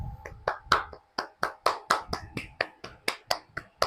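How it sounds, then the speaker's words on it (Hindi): A teacher in a class claps hands in a steady rhythm, about a dozen sharp, close claps spaced evenly, with brief gaps between them and no talking. "ताली मारो यार, मैं क्या, मैं मार रहा हूं तो तुम भी मारो।"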